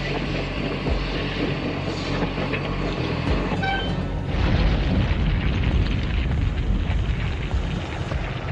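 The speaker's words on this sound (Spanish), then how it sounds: "locomotoras de vapor que tiran de vagones volquete" Steam locomotives hauling rubble-laden dump wagons along a railway in post-war Dresden, 1946, a continuous rumbling, clanking train noise with a brief high whistle-like tone midway and a heavier surge in the second half.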